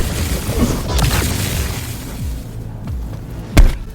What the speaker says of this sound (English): All units report. Opening fire.